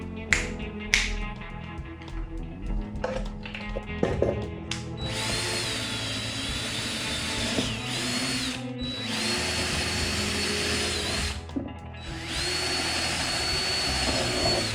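A power drill boring drainage holes in a plant container, with scattered taps and handling clicks first, then loud sustained whining bursts with brief pauses between them.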